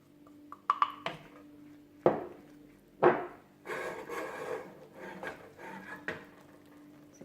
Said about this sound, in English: And then I'm going to add the flour straight away. And give that a good mix.